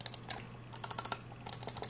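Rapid clusters of sharp computer mouse clicks, heard up close in irregular bursts with short pauses, no voices.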